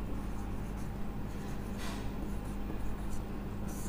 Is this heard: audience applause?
no